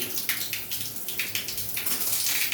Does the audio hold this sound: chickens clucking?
no